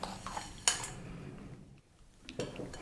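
Cognac and brown sugar going into a pan for a brandy punch, with a sharp metallic clink of utensil on pan and light scraping clatter, then a quiet pause before more clinks.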